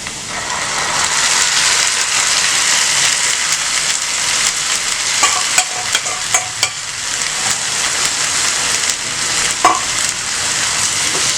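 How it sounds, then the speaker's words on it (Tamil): Onions and ground masala for a mutton liver curry sizzle loudly in a pan, a constant hiss broken by scrapes and clinks of a spoon stirring, with no voices. "வெங்காயம் நல்லா வதங்கட்டும்."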